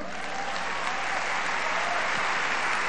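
An audience at a women's congress applauds, a dense, steady clatter of many hands clapping without a break.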